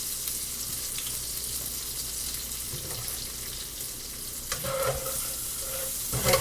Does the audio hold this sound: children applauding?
no